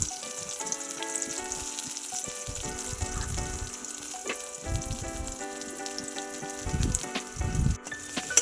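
Onions, beans and chili fry in oil in a kadai with a loud, continuous close sizzle and crackle, while a spoon stirs them in several intermittent scraping bursts; no voices.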